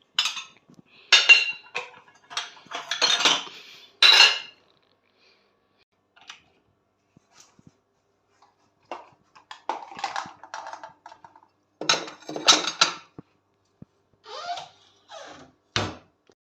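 Close clatter and clinking of dishes and cutlery being handled and set down, in quick bursts separated by quiet pauses.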